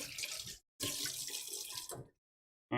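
Peeled hard-boiled eggs rinsed under a cold running kitchen tap, a close hissing stream of water that cuts out briefly twice and then resumes, with no talk.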